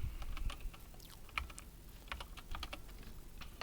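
Quiet keystrokes on a computer keyboard, typed in short irregular bursts of clicks with brief pauses, close and soft with no voices.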